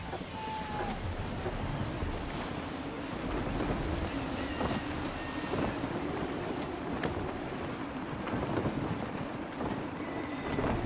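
Gusty wind roars and waves wash around a sailing ship in Assassin's Creed III, a dense steady rush with buffeting gusts and creaks, while voices talk over it.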